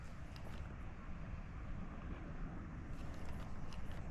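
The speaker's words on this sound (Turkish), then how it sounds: "Rüzgar var" Steady wind buffets a microphone outdoors while sea bass fishing, a constant low rumbling roar with no one speaking.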